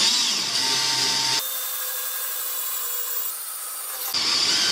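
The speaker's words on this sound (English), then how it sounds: "Put a little bit of pressure on the top and then just begin to drill." A power drill whirs steadily into wood, its pitch dropping as it bites in, then rising again near the end.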